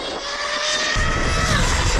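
A twin-motor RC speedrun car accelerates at half throttle, its loud, dense motor whine swelling suddenly about halfway through and holding steady, close and alone with no talk.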